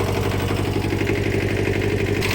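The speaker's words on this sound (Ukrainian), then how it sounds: "такий куботарик старенький, ну але потужний тракторець" An old Kubota mini tractor runs steadily nearby, its engine giving a loud, even, low rhythmic chug throughout with no talk.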